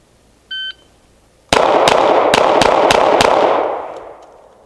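Six sharp gunshots from a CZ P-07 pistol crack in quick succession at an outdoor range, each loud and close, following a short electronic beep from a shot timer, with echoes fading after the last shot.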